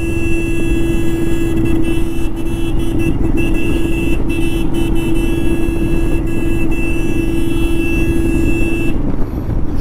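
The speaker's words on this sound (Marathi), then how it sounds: "सो हॉर्न मारूया तिच्यासाठी." A car horn blares in one long, steady, loud honk during a drive on a road in the Konkan region, sounding continuously over road noise before cutting off near the end.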